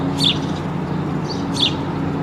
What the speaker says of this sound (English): This house sparrow chick is following her mother around, begging for food